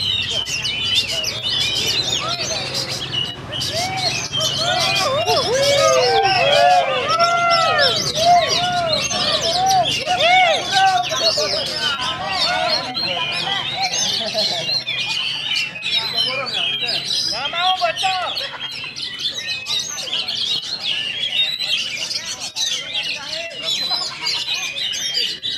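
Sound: kacer birds (magpie-robins) singing at a bird contest

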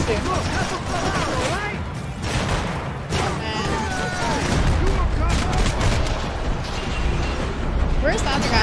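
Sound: gunfire in the video game Max Payne 3

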